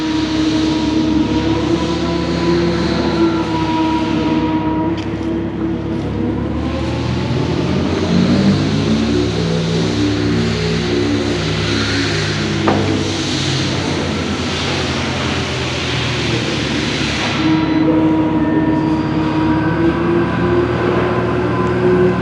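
An Audi e-tron Sportback electric car's engine sound simulator imitates a V8 with a loud, continuous synthetic rumble of layered tones that swells and dips in pitch midway, like a rev, then settles back to a steady drone.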